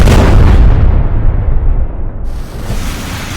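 A massive bomb blast: a loud, deep rumbling roar that starts at full strength and slowly rolls off over a few seconds, with no voices.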